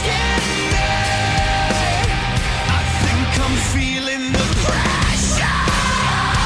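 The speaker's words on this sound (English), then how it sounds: "I love that this first chorus, it's a scream vocal" A screamed vocal carries the first chorus of a heavy rock song, loud and sustained over dense distorted guitars and drums that fill the whole stretch with only a brief dip near the middle.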